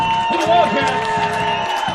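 A homecoming crowd cheers and murmurs in the packed stands at a high school varsity football game between Carlisle and Gilbert, a broad, steady roar under a talking voice.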